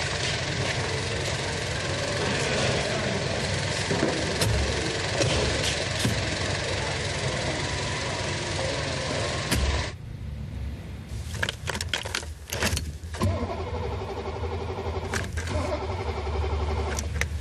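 A cold car engine struggles to start, a steady rough mechanical rumble that breaks off partway and gives way to sparse knocks and clicks.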